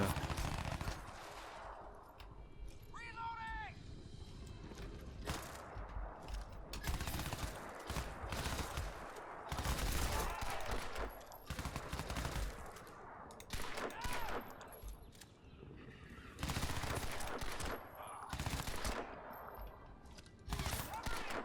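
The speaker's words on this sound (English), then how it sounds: "Incoming fire." Gunfire in the video game Crysis 2, dense bursts and volleys of shots running through the whole stretch at moderate level, with a voice speaking between the bursts.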